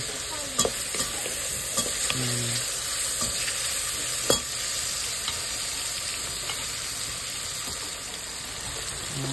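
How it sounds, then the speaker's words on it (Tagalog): Ginger, garlic and onion sautéing in hot oil in a pan, a steady broadband sizzle with occasional scrape and stir clicks, close and continuous, no talking. "Ginisa ko muna ng luya at saka yung ahoy. Saka onion."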